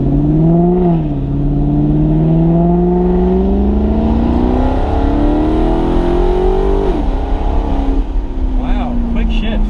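A loud straight-piped Maserati GranTurismo MC engine revs and drops through several downshifts, with the exhaust note rising and falling. Crackling pops come near the end.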